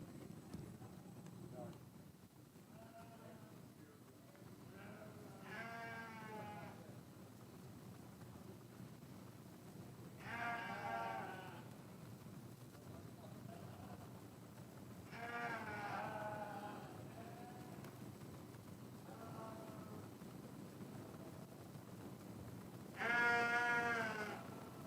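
Hampshire market lambs bleat at a 4-H sheep show, several wavering cries spaced across the stretch, moderately distant over a steady hum of arena chatter and background noise.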